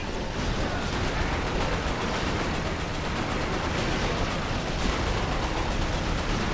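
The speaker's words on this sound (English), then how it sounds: "I'm getting shot at." Gunfire rattles through a dense, noisy battle scene in the shooter video game Resistance: Fall of Man, a continuous wash of shots and blasts at moderate loudness with no voices.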